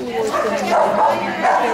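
A puppy yips and barks in short, close bursts indoors, with the yelps running together over about two seconds.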